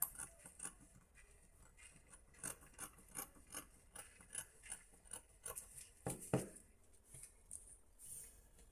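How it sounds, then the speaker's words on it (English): Scissors cutting fabric for a bubu gown, a quiet series of rhythmic snipping clicks repeating about twice a second, with one louder rustle or thump partway through. "we are going to use our scissors to cut this out"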